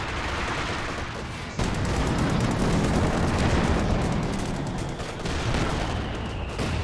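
Howitzer barrages in Company of Heroes 2 fire continuously in a dense, rumbling wall of booms and cracks that swells after a brief quieter opening and stays loud to the end.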